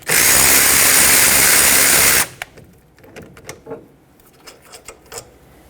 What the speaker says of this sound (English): let's remove the two 14mm bolts that hold the caliper onto the slider pin and therefore the bracket